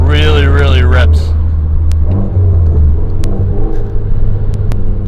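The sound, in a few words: 400 bhp Mitsubishi Evo X engine accelerating hard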